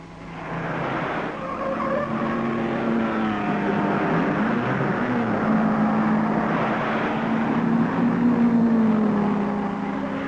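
Mid-1950s sports racing cars at the 1955 Le Mans 24-hour race, a Jaguar chasing a Ferrari, their engines droning steadily and loudly with shifting pitch throughout, no voices heard.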